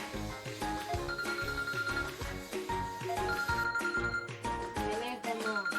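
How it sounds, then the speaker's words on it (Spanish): A telephone bell rings in repeated bursts amid bright tonal music, part of a sound-recognition game with a child; voices are heard around it. "Teléfono."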